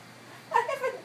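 A house cat gives a single short, fairly loud meow after a moment of quiet, with no talking.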